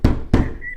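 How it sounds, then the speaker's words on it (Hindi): Two hard, close knocks on a wooden door in a Hindi cartoon story, a loud double rap with a brief ringing tail and no voices. "आधी रात हो जाती है जब उनके घर के दरवाजे पर दस्तक होती है।"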